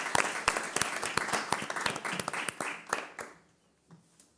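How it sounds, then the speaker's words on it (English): An audience at a talk event gives a round of applause, a dense burst of clapping from many people that fades out after a few seconds, leaving near silence. "Can we get a big round of applause already for our audience here for participating?"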